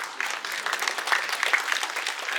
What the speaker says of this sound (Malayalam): കൈയടി വെച്ചിട്ട്